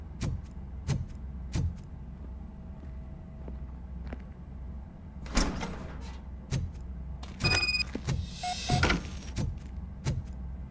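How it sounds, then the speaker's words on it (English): A door opens in the video game RoboCop Rogue City with a run of sharp clicks and clunks, then a busier burst of mechanical rattling and whirring. "Now let me get that door open for you."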